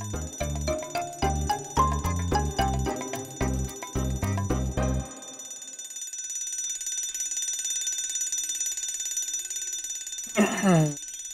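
A mechanical alarm clock rings in loud, rapid bell bursts for about five seconds, then stops, leaving a quiet hum before a short swooping tone near the end.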